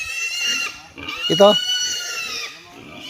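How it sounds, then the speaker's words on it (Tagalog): A pig waiting to be roasted as lechon, at a family home in Davao, gives loud grunts and a sharp squeal in the middle, close by, while people talk over it. "Puntahan nga natin yung baboy na lilitsunin natin."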